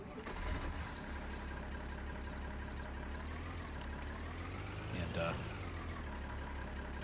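A tractor engine idles steadily in the Farming Simulator 19 game, a low continuous rumble with a brief surge near the end, while people talk over it.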